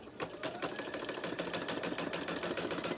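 Embroidery sewing machine stitching a circle, running alone as a steady, fast rhythmic clatter of needle strokes at close range.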